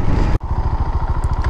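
A 2017 KTM 690 Duke single-cylinder motorcycle thumps along with a loud, close, pulsing engine beat, a brief dip as the rider shifts, then steady rhythmic chugging.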